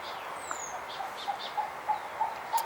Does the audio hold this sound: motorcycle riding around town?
no